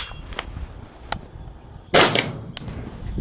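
Single suppressed rifle shot through a Banish Speed K suppressor, a sharp, moderately loud crack followed by a brief metallic clatter, preceded by faint clicks.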